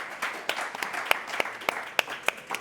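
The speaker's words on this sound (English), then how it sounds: "So please, a round of applause for Enver and Wrenelle." Sparse applause at an investment conference panel on African governments attracting investors: a few hands clapping in an irregular, moderately loud patter, with distinct sharp claps standing out, no talk over it.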